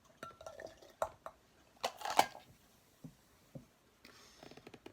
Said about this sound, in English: So I'm going to stir it in as we go.